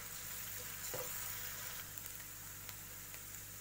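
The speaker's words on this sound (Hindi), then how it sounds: "इसमें हम फाइनली चॉप ऑनियन डालेंगे। तो हमें 2-3 मिनट के लिए सौते करना है।" Finely chopped onions sauté in hot oil in a pan, giving a steady, even sizzle and crackle throughout, with a brief stir or pan knock early on.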